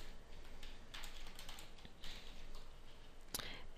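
A mailing list name being typed on a computer keyboard: quiet, close key clicks in an uneven run, with one sharper tap near the end.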